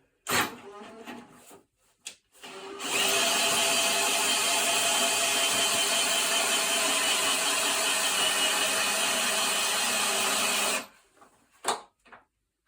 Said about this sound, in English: I'm just going for a battery drill because it's 2023 and battery drills work really well